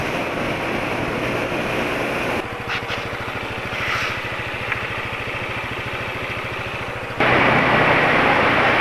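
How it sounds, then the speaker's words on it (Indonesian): A two-stroke motorcycle engine running Axson 10W40 full synthetic oil drones steadily at speed, a buzzing mechanical note with rushing wind noise, rising in loudness near the end. "suara mesin kayak gini"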